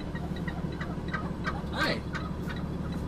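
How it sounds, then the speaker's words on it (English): A flock of wild turkeys in the road gives soft, repeated clucks and chirps at a middle distance, heard over a steady low engine hum from inside a vehicle. "Bunch of turkeys in the road."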